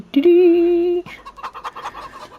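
Chickens clucking on a farm in the Farming Simulator 25 video game: a sustained tonal squawk followed by a run of quick, choppy clucks, fairly loud and close with no talk over it.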